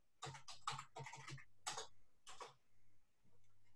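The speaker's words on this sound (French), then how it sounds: "je vais taper ce message au clavier" Quick bursts of computer keyboard typing as a message is entered in a Zoom chat, a rapid cluster of close key clicks that pauses and resumes with a few scattered taps, quiet and with no talking.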